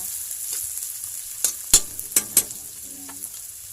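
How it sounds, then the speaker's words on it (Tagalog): Garlic and onion sauté in a pan with a soft, steady sizzle, broken by a few sharp crackles and stirring clicks, close by and without talk. "Saute lang natin ang garlic at saka onion. Until mag-golden brown siya."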